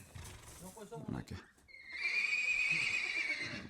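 A horse neighs loudly nearby, a long whinny rising over some earlier voices and rustling on a small horse farm.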